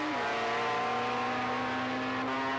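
A drag-racing motorcycle, the Big Blue Kawasaki, roars at a 1989 IDBA drag race, its engine holding a loud, steady high-pitched drone after a brief drop in pitch near the start.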